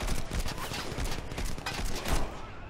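Rapid gunfire from the video game Crackdown crackles in dense, overlapping bursts, a loud and continuous volley of shots throughout.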